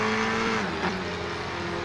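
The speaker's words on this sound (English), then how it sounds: "At least we can hear the car sounds, not just my voice this week" A Formula 4 race car in a racing sim at Brands Hatch, its engine a steady buzzing drone with a brief rising tone and faint tire squeal, loud and close, with no voices.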